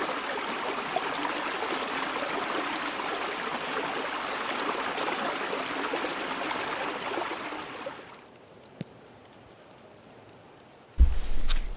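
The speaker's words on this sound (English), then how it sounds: "Can you hear the water?" Brown, muddy stream flowing steadily beside a campground, a continuous broadband rush for about eight seconds before dropping to a faint trickle, then a sudden loud close rustle at the end.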